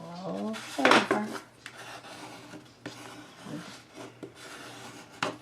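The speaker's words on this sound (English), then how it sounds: "Burnish it down." Folded paper for a mini album cover being burnished flat with a tool, heard as a loud rubbing scrape near the start followed by softer intermittent rubs and taps, close up with no talking.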